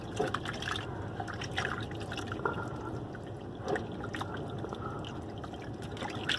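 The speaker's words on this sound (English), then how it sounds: "make sure you rinse out all that soap" Running water splashes and trickles steadily over a puppy during her first bath, a continuous close wet patter with small drips throughout.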